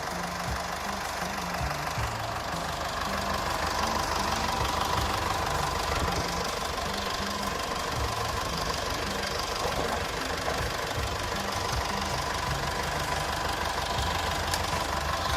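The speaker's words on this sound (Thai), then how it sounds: "เครื่องยนต์ก็เสียงเงียบนะครับ เสียงปกติเลย" A Mitsubishi Triton Plus 2.5-litre diesel pickup with automatic gearbox idling steadily, a low rhythmic knocking rumble that stays even throughout with no voices.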